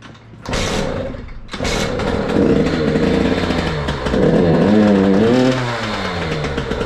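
A KTM SX 85 dirt bike engine with a dirty carburettor sputters briefly, then revs up and holds a rising, wavering whine before settling into a steady idle; close and loud.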